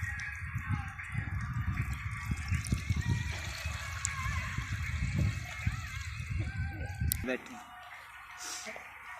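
Water poured into a manual backpack sprayer tank to mix in pesticide, a rushing, splashing gush running steadily for several seconds before cutting off, with a rooster and other outdoor sounds faintly around it.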